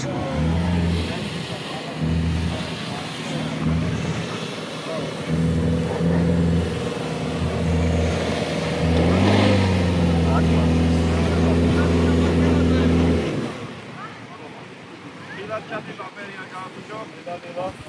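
Off-road vehicle at an outdoor hill climb, tyres struggling for grip on the slope, its engine revving loudly and steadily for about thirteen seconds before dropping away, with wind noise and people talking nearby.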